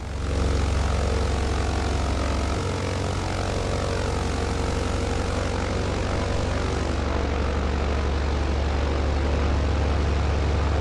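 A propeller aircraft engine in a flight simulator game drones steadily and loudly throughout, a dense continuous hum with no talking.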